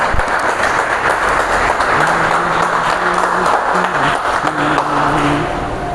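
Congregation clapping at a Baptist church service, a dense, steady wash of many hands filling the room for several seconds, with sustained tones from music or voices running underneath.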